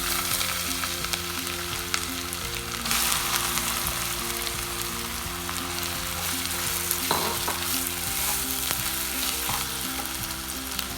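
Grated mango ginger frying in hot oil with mustard seeds, a loud continuous dense sizzle and crackle held steady throughout, close up.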